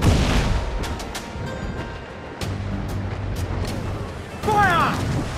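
Ship cannons firing in the naval battle game Assassin's Creed IV Black Flag, with deep booming volleys and rumbling blasts while crew voices shout over the action.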